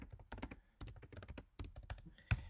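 Someone types on a computer keyboard while coding, with quick, close, irregular bursts of key clicks and one heavier final thunk.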